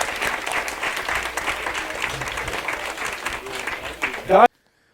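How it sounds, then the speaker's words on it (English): An audience applauds steadily with a dense wash of clapping, a voice briefly heard near the end before it cuts off. "Give her a round of applause."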